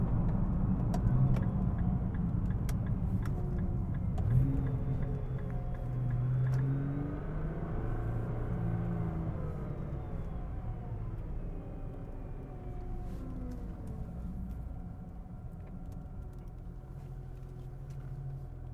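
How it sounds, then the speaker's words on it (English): A 2009-onward Nissan GT-R R35 drives along with a steady, low engine and road drone, the pitch rising and falling gently as it accelerates and eases off, heard from inside or close by. "I've just driven a Nissan GTR."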